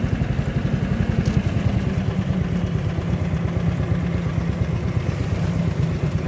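A Harbor Freight 459cc engine idling on a 12 ft jon boat, with a loud, close, steady chugging low rumble and a rapid even beat that carries on throughout, with no talk.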